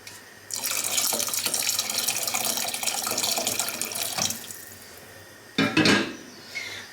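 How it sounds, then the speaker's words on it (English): Tap water runs in a steady, close stream for about four seconds as it is added to a pancetta and vegetable soup in a home kitchen, followed by a brief clatter of pots or dishes. "so I'm going to add a little bit of water."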